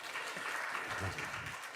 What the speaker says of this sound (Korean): 우리 한 번 더 뜨겁게 박수 부탁드리겠습니다